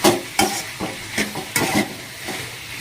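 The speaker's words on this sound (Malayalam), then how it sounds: "നമ്മൾ കട്ട് ചെയ്ത് വെച്ച തക്കാളി അതിലേക്ക് തട്ടുന്നു, എന്നിട്ട് ഇളക്കുന്നു" Chopped tomatoes sizzle in a hot pan as a spoon stirs them in a home kitchen, with repeated scraping strokes in an uneven rhythm over a constant close frying hiss.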